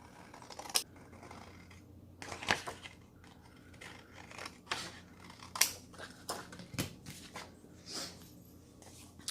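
Scissors snip around the edge of book page scraps in short, quiet, irregular cuts, separated by soft paper rustling.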